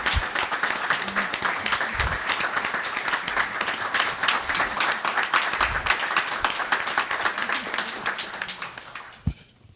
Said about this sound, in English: I want to give all of you a round of applause.